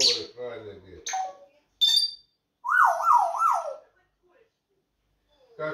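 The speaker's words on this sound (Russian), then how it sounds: "Как шикарно ты посвистываешь, как сирена." A pet parrot whistles a wavering, siren-like rising and falling tone in a quiet room, set between short chirps and squawky vocal sounds, with someone speaking softly at the start.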